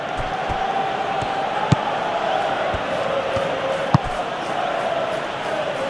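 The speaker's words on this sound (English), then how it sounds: "Well, the crowd clearly liked what they just saw." Steady stadium crowd noise from the football video game PES 2021 at Craven Cottage, home of Fulham: a constant dense roar of many voices with a few sharp thuds cutting through, loud and continuous throughout.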